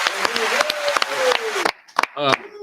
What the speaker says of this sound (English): we got to clap it up one more time for that